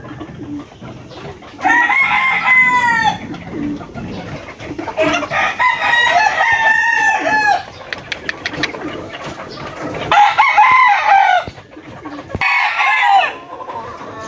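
A nine-month-old sweater over pumpkin gamefowl stag crows loudly and close by several times in a row, with clucking and other bird calls between the crows.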